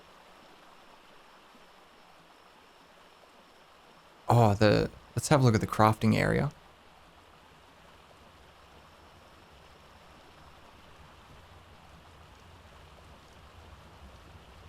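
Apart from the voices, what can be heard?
rain in the video game Ark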